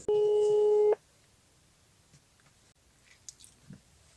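A telephone busy signal sounds as one loud, steady tone for about a second at the start, then cuts off, leaving faint handling noises and quiet room sound in a chainsaw repair workshop.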